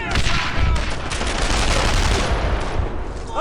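Heavy gunfire in the World War II shooter Brothers in Arms: Earned in Blood, a loud, dense, continuous barrage of rifle and machine-gun shots with echoing booms, close and relentless, with a shouted voice briefly mixed in.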